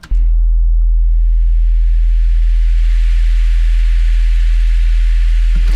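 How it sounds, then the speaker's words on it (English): A steady, loud clean sine tone from the Vital synthesizer starts abruptly, with a band of hissing noise rising above it after a moment, both ending together. "we have a clean sine wave, then we have a gap, and then we have the noise"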